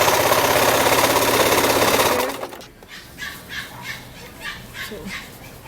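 Sewing machine stitching a wide waistband onto a formal pleated skirt, a steady loud mechanical whir for about two seconds that then stops, leaving quiet rustling and faint background sounds.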